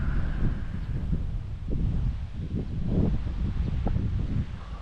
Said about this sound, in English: So wind's picking up